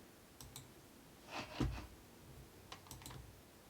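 A few soft computer mouse clicks on an on-screen button, scattered and close, with a slightly louder cluster of clicks in the middle against a quiet background.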